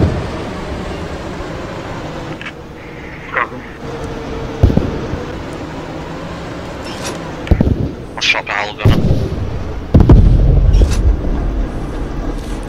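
Gunfire in the World War II shooter Post Scriptum during a Panzer IV D rearguard fight at Dinant, with several sharp, loud shots and bursts scattered over a rumbling engine and battle background, and voices heard at times.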